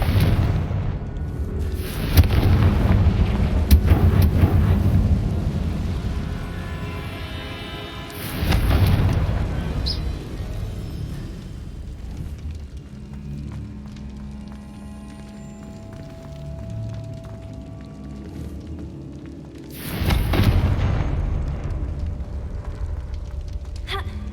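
Fiery spell blasts in the Hogwarts Legacy video game, with deep booming explosions near the start, around eight seconds and around twenty seconds, each trailing into a rumbling decay over low game ambience.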